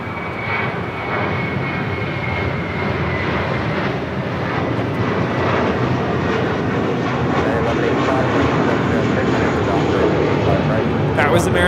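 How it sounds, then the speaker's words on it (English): An American Airlines Airbus A321 departs LAX with a loud, steady jet engine roar that holds for the whole stretch and builds slightly toward the end. "1541 departing to Los Cabos on an A321"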